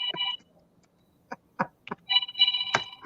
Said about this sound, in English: Maybe I'll call Jeremiah while on the phone